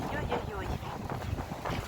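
Strong wind buffets the microphone outdoors in a rural yard, a rough, continuous rumble with a person's voice partly heard through it.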